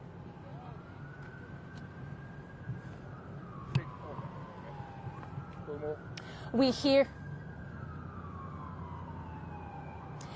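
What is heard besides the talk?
ambulance siren approaching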